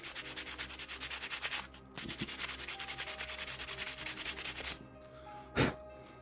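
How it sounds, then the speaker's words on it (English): Sandpaper rubbed over a 3D-printed figure in steady, rapid back-and-forth strokes, close and fairly loud, with a brief pause near the two-second mark, then stopping and giving way to a soft thump. "I'm just going to use the sandpaper to smooth it off a little bit"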